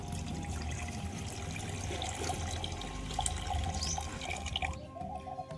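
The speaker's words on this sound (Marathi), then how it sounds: "आता एक ग्लास पाणी टाकून घेऊ कढईतनी" A glass of water pours in a steady stream into a hot wok on a wood-fired stove, splashing and gurgling, then cuts off abruptly near the end.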